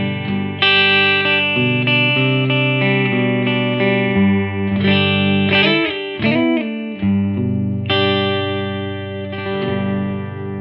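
Clean electric guitar from a PJD St. John Standard played through a Blackstar Studio 10 6L6 amp with spring reverb, a sequence of ringing chords and note phrases with a bright sustained tone and audible reverb tails, played alone.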